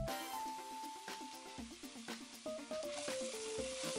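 Chopped vegetables and garlic sizzle and fry in a pan for a bolognese macaroni sauce, a steady crackling hiss with stirring, and background music playing over it.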